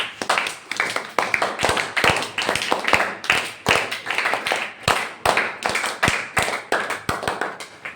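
Classroom students clapping for a classmate during a maths lesson, a brisk run of sharp, close hand claps in uneven rhythm that continues steadily throughout, with no voices over it.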